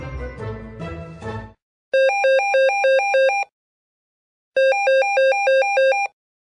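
A phone ringing in The Sims 4 video game: two bursts of a bright electronic warbling ring, each about a second and a half long and separated by silence, following a short stretch of game music.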